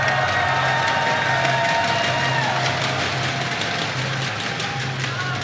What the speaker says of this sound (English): Crowd has so much energy, they're just doing the clap down because they can.